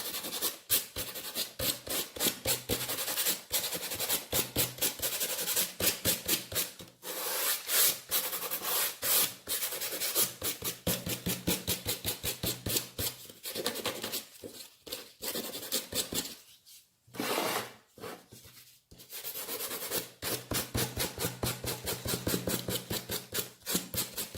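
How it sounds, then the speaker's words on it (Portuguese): Sandpaper rubbed back and forth by hand over a painted wooden panel, a dense run of close, loud rasping strokes with a few brief pauses. "aqui vai ficar lixado só pro mesmo sentido"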